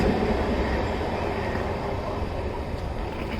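A passenger train on a journey to Kerala pulls out of the station with a loud, steady rumble of wheels and rolling cars close by. It continues as an unbroken roar with no talking.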